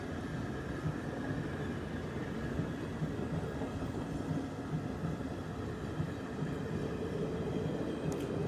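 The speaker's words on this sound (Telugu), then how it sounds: "చాలా చిన్న ట్రైన్ అని చెప్పుకోవచ్చు." A small train rolls past at a railway station in Gadwal, a continuous steady rumble with rhythmic clickety-clack of wheels on rails, moderately distant and unbroken by talk.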